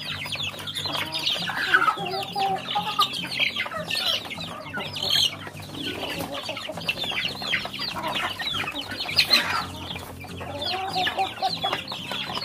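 Young chicks at day 24 of rearing cluck and peep busily while eating feed, a continuous dense chorus of many birds close by with no talking.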